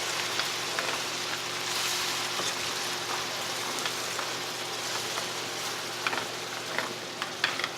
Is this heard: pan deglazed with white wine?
yes